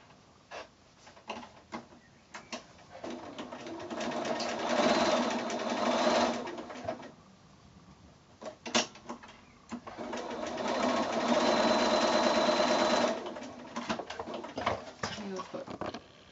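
A sewing machine stitches pockets onto the ends of a drawstring bag in two sustained runs of steady whirring, separated by quieter pauses and punctuated by short clicks, with a person speaking throughout.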